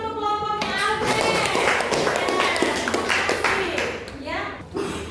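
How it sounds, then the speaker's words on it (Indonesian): A classroom of children claps for a presenting group, busy overlapping claps mixed with children's voices and chatter, fairly loud and close. "tepuk tangan dulu untuk kelompoknya Alden"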